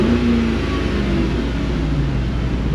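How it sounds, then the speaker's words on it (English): A parked car engine, checked with a scan tool and suspected of bad motor mounts, idles and then climbs in speed, a steady mid-pitched hum rising to a sustained rev with faint whirring. "I'm going to bring up the engine speed."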